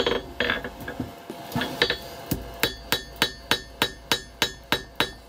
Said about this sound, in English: I'm actually hitting on a slight angle with the heel of my hammer to try and forge in the bevel slightly